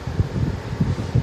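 An Electrolux EE07F window air conditioner of 7,500 BTU running in fan mode, giving a soft, steady whoosh of moving air with faint low pulsing, close by and with no talking.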